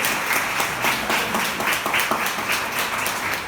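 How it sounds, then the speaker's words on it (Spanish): Steady applause from a church congregation, dense clapping sustained throughout at a fairly loud level, with no talking over it. "Démosle ese aplauso al Señor"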